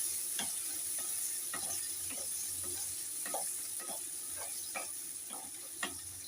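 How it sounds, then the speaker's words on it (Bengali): Chopped onions with nigella seeds frying in oil for a rohu fish curry, with a quiet background sizzle broken by soft, fairly regular spatula strokes as the pan is lightly stirred. "পেঁয়াজটা দিয়ে হালকা একটু নেড়ে নেবো।"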